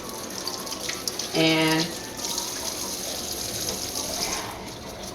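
A kitchen tap runs steadily while hands are washed, giving a continuous splashing hiss of water. A voice briefly speaks over the flow.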